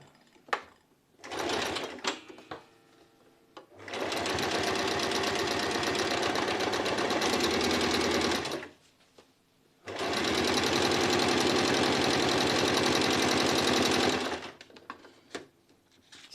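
A sewing machine stitches a fabric bottle carrier in two long, steady runs of about five seconds each, with brief pauses and small handling noises between them; no one speaks.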